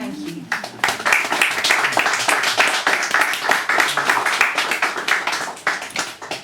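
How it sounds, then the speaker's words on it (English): An audience claps warmly for a folk performer after her set, a steady patter of hands at moderate volume lasting several seconds and tapering slightly at the end. "So more applause please for Penny."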